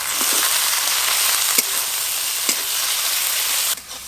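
Spice paste of chopped tomato, salt, turmeric and ground dried chilli frying hard in a pan: a steady, loud, close sizzle with a few stirring knocks, dropping off sharply near the end.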